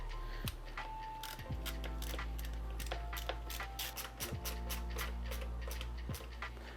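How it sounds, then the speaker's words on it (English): Small screws are driven into a DIY VESC OneWheel during final assembly, giving close, rapid mechanical ticking and ratcheting clicks with a few heavier clunks spaced roughly a second apart. No one speaks. "I'm going to change these to the 4 shorter screws because that felt like it bottomed out"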